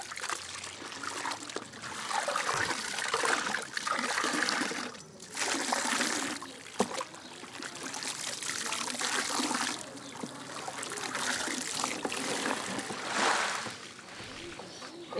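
Water trickles and splashes steadily while laundry is rinsed by hand, with short pauses and sloshing bursts, fairly close and continuous.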